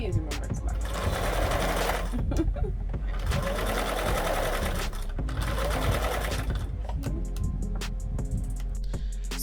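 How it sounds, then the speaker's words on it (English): A sewing machine stitches along the seam allowance of a cushion, running in three steady bursts of rapid needle chatter separated by brief pauses, close and clear. "So sewing along your seam allowance"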